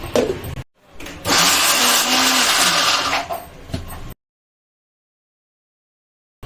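A kitchen mixer grinder whirs loudly for about three seconds, blending brinjal and tomato chutney after tomatoes are added, with brief start-stop bursts and then silence.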